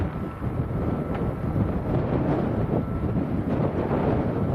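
Strong wind at Lanzarote airport roaring steadily across the microphone as a broad, constant rushing noise, loud and close, with no clear breaks and no talking.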